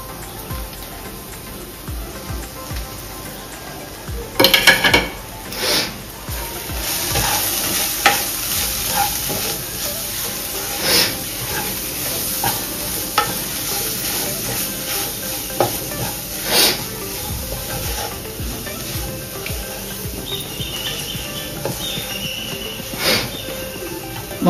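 Ground Kashmiri chilli, turmeric, cumin and coriander with salt fry in oil in a pan, a continuous close sizzle broken by repeated scraping stirs of a spoon through the spice paste.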